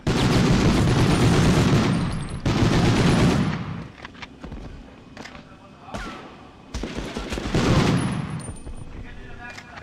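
Automatic fire from a BAR rifle in Medal of Honor (1999), coming in loud sustained bursts with short gaps between them, with game sounds and talk mixed in.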